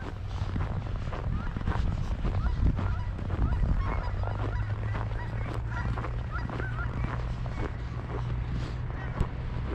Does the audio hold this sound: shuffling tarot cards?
no